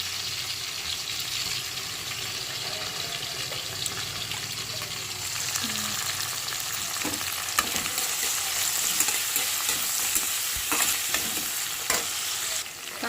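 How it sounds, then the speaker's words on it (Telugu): Onions and curry leaves frying in oil in a home kitchen: a steady, close sizzle with occasional stirring clinks and scrapes, continuous throughout, with no talking. "అలానే ఆనియన్స్ వేసేసుకున్నాం ఆనియన్స్ కూడా ఫ్రై అవుతాయి అలానే కరివేపాకు వేసి కూడా బాగా ఫ్రై చేసుకున్నాం"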